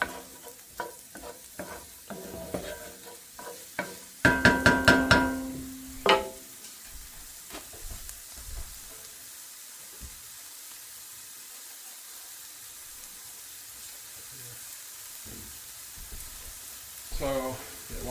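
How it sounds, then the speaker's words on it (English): Onions frying in hot fat are pushed around with a wooden spoon, giving close scraping strokes and a burst of loud sizzling in the middle, then a quiet stretch of gentle frying with occasional light stirs. "Move the onions around a little bit so that some of the hot fat makes it onto all the onions here"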